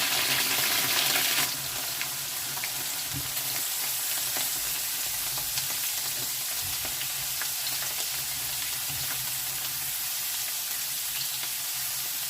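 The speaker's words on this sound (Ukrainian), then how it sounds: "І поки у нас все обсмажується" Potatoes and mushrooms sizzle and crackle steadily in a hot pan, a constant loud hiss with small pops and the occasional clink of stirring.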